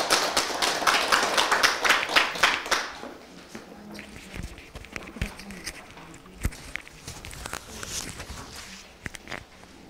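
Listeners at a hospice volunteer training session at a hospital clap after a lecture, with a brief burst of loud applause in the first few seconds that gives way to scattered taps and quiet room noise.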